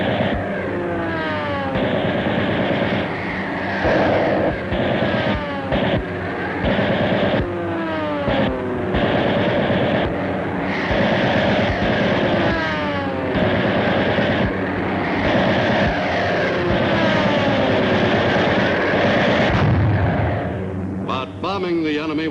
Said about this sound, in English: the attacking bombers had to cope with Japanese fighters